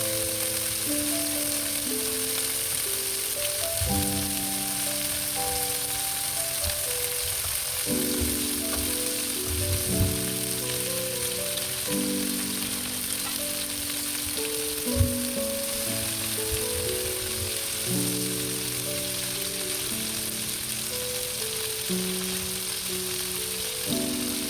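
Chicken drumsticks frying steadily on a flat tawa for a malai tangdi dish, a continuous loud sizzle with occasional light pops and clinks throughout, no voices.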